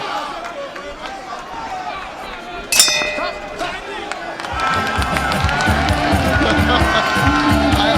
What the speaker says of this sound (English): Bell just saved you there.